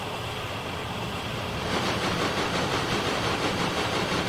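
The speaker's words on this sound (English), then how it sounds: "That's like a nice train, the Ice 2." An ICE 2 high-speed train in Train Simulator 2022 runs at speed with a steady, loud broadband rumble and rail roar. The sound thickens into a rhythmic clatter partway through.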